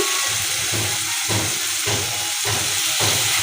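Bitter gourd pieces go into a hot pan for a curry and set up a continuous loud hiss and sizzle, with faint stirring scrapes pulsing underneath.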